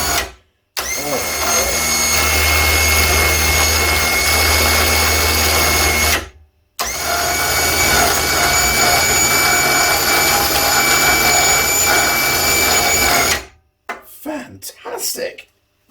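A dead electric winch, repaired without new parts, spools in with a steady loud motor whine and grinding drone that runs for about six seconds, stops, then runs again for roughly seven seconds before a few clicks.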